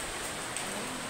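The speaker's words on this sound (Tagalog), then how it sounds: "Ay, ang lakas ng ulan." Steady, heavy tropical storm rain in Sabang, Puerto Galera, Philippines, hissing continuously, a dense wash of drops with no pauses.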